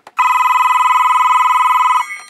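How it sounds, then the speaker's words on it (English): A single loud electronic ring from a vintage Western Electric Touch-a-Matic touch-tone phone, a steady warbling trill lasting about two seconds, close and clear, then cutting off. "and so you can hear it ring."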